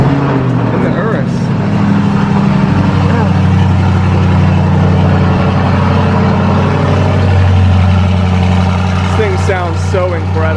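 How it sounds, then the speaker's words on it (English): A Lamborghini Urus engine fires up from a cold start and settles into a loud, steady idle with a deep rumble throughout, revving slightly near the end. "I'm gonna do a cold start for them."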